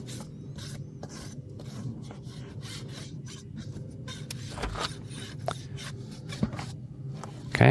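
A horseshoeing rasp files a massive draft horse's hoof in steady back-and-forth strokes, close up and continuous, with no talking.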